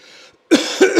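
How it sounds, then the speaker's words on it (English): A single person coughs sharply twice close to the mic, harsh and loud, following a brief faint hum and a moment of silence. "I thought I wasn't going to cough at all at the end."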